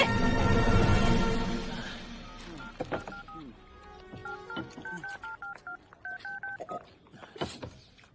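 A sequence of telephone keypad tones, short beeps in an uneven rhythm, following a noisy opening burst.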